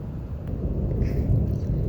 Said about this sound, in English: okay, thunder strike